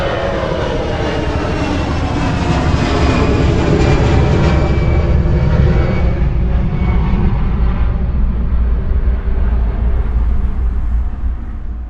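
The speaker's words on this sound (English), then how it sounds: "Here are 2 examples of recordings made at an airport." Aircraft engine roar at an airport, loud and close, swelling as the plane passes and then slowly fading away into the distance.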